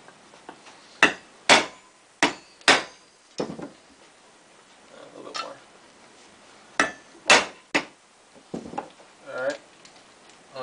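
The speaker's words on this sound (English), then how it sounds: "pound the other two clutch springs in there loose. Just, your hammer and then your 12mm socket" Hammer striking a 12mm socket to seat the clutch springs on a GP460 clutch, about a dozen sharp metallic taps in irregular bursts, close and fairly loud, with brief pauses between groups.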